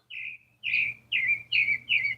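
Birds sing in trees outdoors on a nice day, giving five clear, high, descending chirps in a steady repeating rhythm, close and bright, with a faint low hum underneath and no talking.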